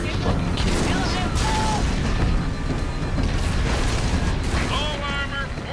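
Plasma cannon fire and explosions rumble loudly and constantly during a Halo 3 battle, a dense roar of booms, bursts and whining energy shots with vehicle noise, while a voice speaks over the din.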